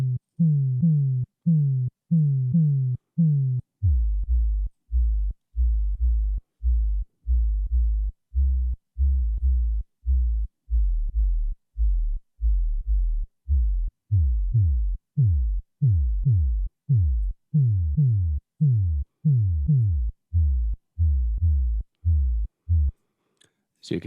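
An 808-style kick synthesized in Massive repeats in a steady pulse of deep, subby thumps, its envelope shifting so the hits change from short tonal blips to longer booming kicks with falling pitch sweeps.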